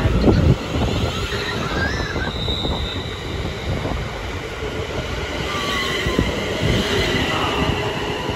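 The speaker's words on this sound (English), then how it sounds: "The 1236 London North Western Railway service from London Euston to Tring" A London Northwestern Railway train moves through Harrow and Wealdstone station, its wheels rumbling and squealing in high whines along the rails, loud and sustained with a clattering start.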